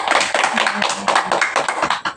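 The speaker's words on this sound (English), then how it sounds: "Give applause for us." A class applauds after a microteaching lesson, a short burst of scattered clapping that is dense and close, mixed with voices talking over it.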